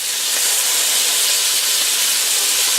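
Minced garlic sizzling in a pot for one-pot Cajun shrimp sausage pasta makes a loud, continuous, even hiss close by, with no voices.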